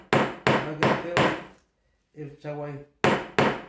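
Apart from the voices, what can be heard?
hammer striking in a handicraft class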